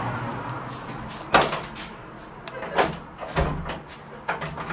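A pub door bolting shut and swinging open and closed, with several sharp knocks and thuds spread across a few seconds, close by with a faint room background.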